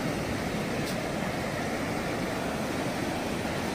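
Ocean waves wash onto a beach in the morning, a constant broad roar of surf that stays even and fairly loud throughout, with no voices.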